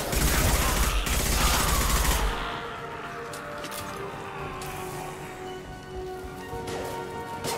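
A loud burst of heavy gunfire in the Mass Effect 2 video game for about two seconds, cutting off into a quieter hum with faint clicks and mechanical sounds.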